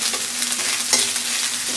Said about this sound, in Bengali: মশলা আমার কষানো হয়ে গেছে, দারুণ গন্ধ বেরোচ্ছে কিন্তু।